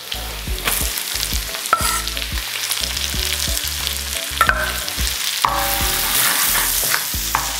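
Garlic and onion sizzle and fry in hot oil in a pan for menudo, a steady crackling hiss with intermittent stirring clatter throughout, loud and close.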